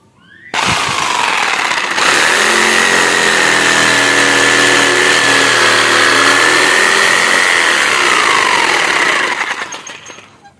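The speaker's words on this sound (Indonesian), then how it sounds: "Setelah itu kita potong lingkaran luarnya ini dengan memakai jigsaw atau gergaji manual ya." A jigsaw kicks in abruptly and cuts with a loud, steady buzzing whine for about eight seconds before winding down and stopping.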